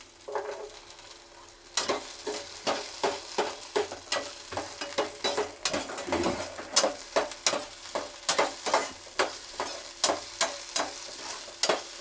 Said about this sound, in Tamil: இந்த வெங்காயத்தை போட்டு வதக்கணும். கொஞ்சம் வதங்கின உடனே இந்த பூண்டை போடணும்.